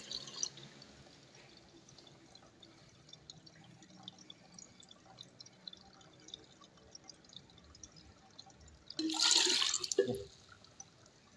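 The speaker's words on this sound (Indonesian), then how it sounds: "Lalu saya tambahkan air" Water poured into a tank of a homemade oxyhydrogen generator: after a quiet stretch of faint drips and small clicks, a short, loud burst of splashing water lasting about a second near the end.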